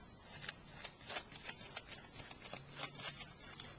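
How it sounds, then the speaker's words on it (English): A feather with its curved edge cut down, dragged across a vinegar-painted panel for faux graining, gives faint, soft, repeated scratchy brushing strokes close to the microphone. "using a feather with the curved edge cut way down"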